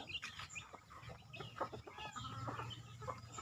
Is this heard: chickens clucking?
yes